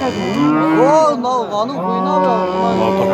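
Cattle lowing at a livestock market in Özgön, with bulls and cows for sale: several long, loud, close moos that rise and fall in pitch, following one after another with almost no pause.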